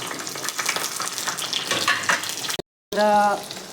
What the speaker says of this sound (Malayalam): ചെറിയ ഉള്ളി, വെളുത്തുള്ളി, ചെറിയ കഷ്ണം ഇഞ്ചി, പിന്നെ 2 പച്ചമുളക്, ഇത് ഇത്രയും കൂടിയായിട്ട് എണ്ണയിലേക്ക് ഇട്ട് കൊടുക്കാം